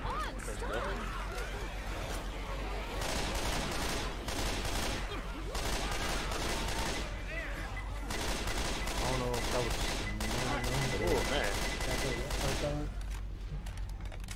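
Rapid bursts of gunfire in the zombie shooter Left 4 Dead, sustained volleys close and loud across the whole stretch, with players talking over the shooting.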